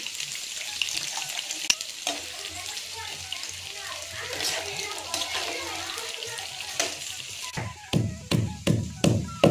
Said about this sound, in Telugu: సో ఫస్ట్ అయితే కాకరకాయలు వేయిస్తున్నాను